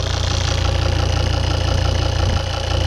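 A Volvo D5 diesel engine idles steadily during an injector leakback test, its low, even chugging rumble running continuously and close by with no one speaking.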